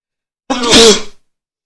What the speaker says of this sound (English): Always the sneezes.